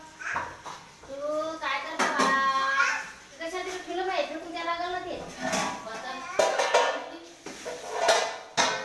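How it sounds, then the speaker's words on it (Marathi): Dishes, pots and pans being scrubbed and washed, with clinks and clatter of utensils mixed under continuous chatter from a child and adults, plus a dog barking nearby. "भांडी घासायची"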